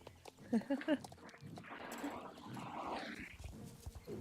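A dog in the online horse-riding game Star Stable Online making odd, faint yelping noises in a short cluster, then softer scattered sounds, with a person talking quietly over them.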